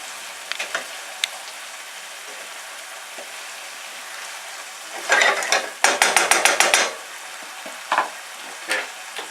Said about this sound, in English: just stir it one more time.